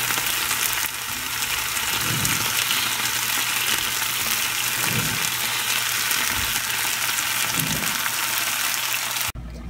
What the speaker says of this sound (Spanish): Ahora voy a agregar el bistec.